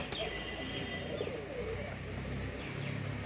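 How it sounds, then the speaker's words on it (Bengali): Pigeons coo softly and steadily in their loft as they go into the boxes, with a few chirps over a constant, close murmur of calls. "এই যে কবুতরগুলো খুপে ঢুকছে,"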